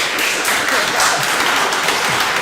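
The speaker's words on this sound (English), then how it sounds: "It's 7 people feverishly clapping." A handful of people in a sports pub clap briskly, a thin, scattered patter of hand claps without other sounds.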